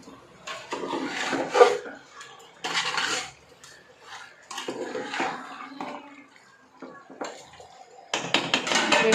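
Chicken is stirred with rock salt in a pot, a metal utensil scraping and clinking against the pot in short, irregular bursts separated by brief pauses.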